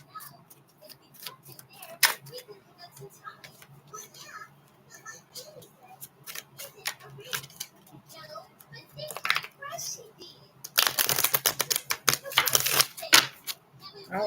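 A deck of tarot cards is shuffled indoors, with scattered soft clicks and quiet talk leading into a dense, rapid riffling burst near the end.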